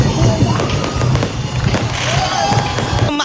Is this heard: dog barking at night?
no